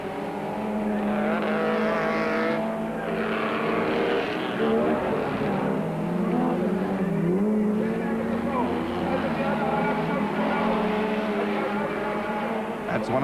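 Off-road race cars, including a Pennzoil Land Rover and a Raceco Chevy, roar past in a steady continuous engine drone with shifting pitch, under a commentator's voice talking throughout.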